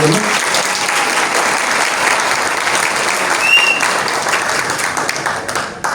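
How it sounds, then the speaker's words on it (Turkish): Guests at a civil wedding ceremony in a Kağıthane registry office applaud the bride. The clapping is steady and close, with a brief whistle near the middle, and it fades slightly at the end. "Alkışlayabilir miyiz"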